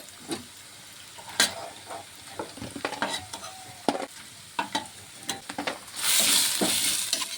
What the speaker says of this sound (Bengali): এখন পেঁয়াজটিও কিন্তু প্রায় ভাজা হয়ে এসেছে।